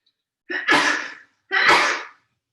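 Two sharp sneezes, each a quick inhaled catch followed by a forceful burst, about a second apart and close by, with silence around them.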